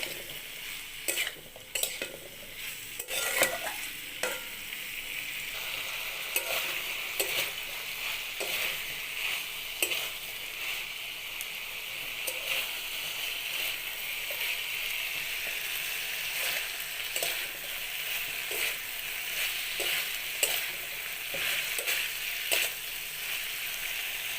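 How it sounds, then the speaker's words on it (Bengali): Drumstick (sajne) vegetable pieces with potatoes stir-fried in a pan, a steady close sizzle broken by frequent scraping stirs of a spatula against the metal, continuous throughout with no talking. "সবজিটা ভালোভাবে কষিয়ে নিলাম"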